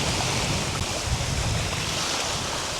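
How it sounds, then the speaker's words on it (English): Lake waves lap steadily at the shore at a state park campsite, a continuous wash of water mixed with wind buffeting the microphone, no voices. "Those waves getting you, huh? The waves getting you."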